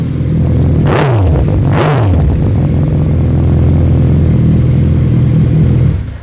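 A Suzuki B-King 1300 motorcycle at night gives two quick throttle blips that rise and fall, then settles into a steady, loud, close idle rumble with no talk.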